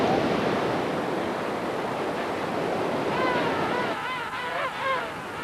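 Ocean surf breaks and rushes steadily onto a beach where orcas hunt seal pups, a continuous loud wash of waves with wind noise throughout.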